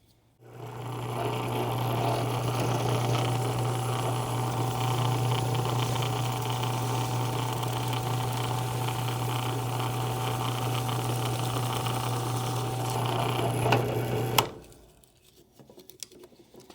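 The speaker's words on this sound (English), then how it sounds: "So far it's drilling it out pretty good." A steady mechanical whir of a power drill runs continuously for about fourteen seconds, then cuts off abruptly, leaving near silence.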